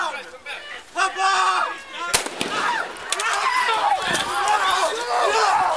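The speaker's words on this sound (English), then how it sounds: "Seven shots fired" A sheriff's deputy fires gunshots outside a church in Vista: several sharp, loud bangs in quick succession amid tense, shouting voices and commotion.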